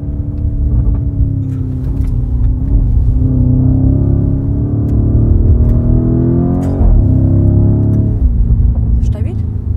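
An 840 PS ABT-tuned Lamborghini Urus cruising at 250 km/h gives a steady, loud cabin drone of engine and road rumble with shifting tonal harmonics, while people talk inside the car throughout.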